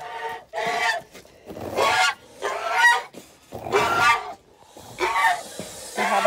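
A farmyard goose sitting on eggs honks and hisses repeatedly at close range, giving loud, harsh calls in uneven bursts separated by short pauses.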